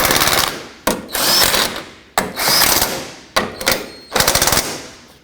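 Impact wrench zipping the strut brace mounting nuts snug on a 2004-2008 Acura TL, four loud close bursts separated by short pauses, each a rattling hammering whir that stops abruptly.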